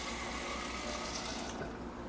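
A little water poured into a blender for a banana smoothie, a short, faint, steady splashing trickle.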